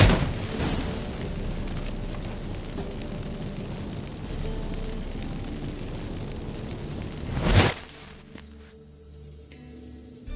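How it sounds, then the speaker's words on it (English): Magic fireworks from incense in The Witcher 3 make a sustained crackling, rumbling roar for several seconds, then a sharp loud burst, then a quieter tail with faint tonal chirps. "Get ready for some magic fireworks"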